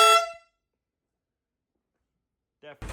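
Low-pitched Longhorn air horns fitted to a scooter give two short, loud blasts, one fading out at the start and another at the very end, with silence in between.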